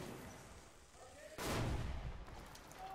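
A sudden loud burst of gunfire in the shooter game Metro 2033 Redux cuts in midway through a quiet stretch, then lingers as rough, noisy firing and echoing impact.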